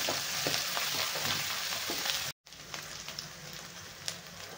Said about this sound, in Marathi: मसाले छान मस्त असे परतून घ्यायचे आहेत आपल्याला.